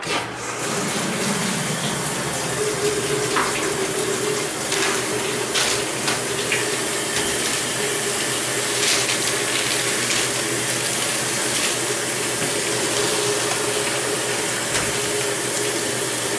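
GE washing machine water valves run in test mode, filling the drum with a steady, even rush of water that lasts throughout, with faint clicks and mechanical ticks scattered over it and no talking.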